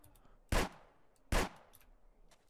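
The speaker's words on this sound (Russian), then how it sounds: "по мне шмаляет, ты видел, да?" Gunfire in a GTA roleplay game, three sharp, loud single shots spaced about a second apart against a quiet background.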